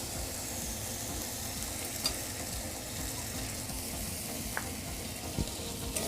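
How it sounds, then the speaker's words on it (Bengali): Red lentils fry in a pan with a continuous sizzle while they are stirred, and a few faint scrapes and clicks sound at scattered moments. "মুসুর ডালগুলো দেওয়ার পর একবার নাড়াচাড়া করে নেব।"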